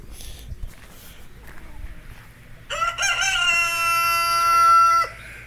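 A rooster crows once, loud and close, a bright harmonic call held for about two seconds after a stretch of quiet rustling and footsteps.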